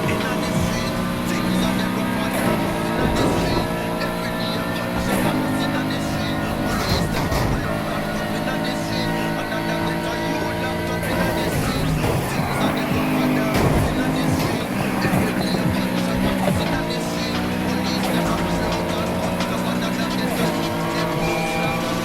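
Racing cars in the video game NFS Heat roar through a dense, steady mix of engine noise, tire squeal and driving music, loud and continuous throughout without a break.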